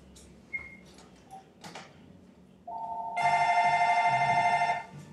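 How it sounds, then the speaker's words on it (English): A telephone rings loud and close, a steady electronic tone swelling into a sustained ringing that runs for about two seconds over faint room noise. "I got a phone call, which is probably very loud"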